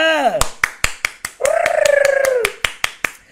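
Hands clap in a steady, evenly spaced rhythm of sharp single claps during a Thai-language tutoring class, while a voice speaks and sings in a drawn-out tone between and over the beats.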